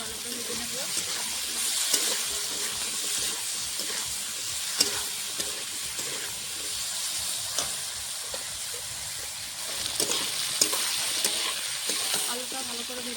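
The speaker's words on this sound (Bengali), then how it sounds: "আলুটা ভেজে নেব।" Potatoes seasoned with salt and a little turmeric fry in a pan with a loud, continuous sizzle and hiss, broken by occasional clicks and scrapes of stirring.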